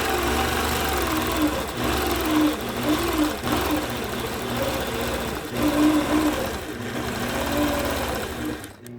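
A sewing machine quilting a baby quilt hums in a fast steady stitching whir, stitching in the ditch along a 5-inch straight ruler, close and continuous with slight pulses in speed and no talking.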